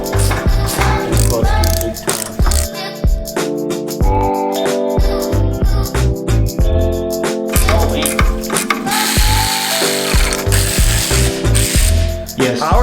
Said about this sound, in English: We're removing the header. I'm just loosening the bolts for now.